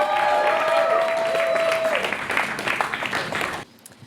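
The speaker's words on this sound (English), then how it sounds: "Give them a round of applause for making it out on Wednesday night." Audience applause for the performers Kimbra and TŌTH at a Wednesday night event, a dense wash of clapping with a sustained tone and some voices mixed in early, then cutting off abruptly near the end.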